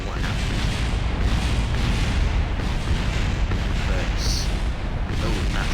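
Loud, continuous roaring and rumbling from explosions in the video game Kerbal Space Program, a dense wall of sound that barely lets up, with one short brighter burst near the end.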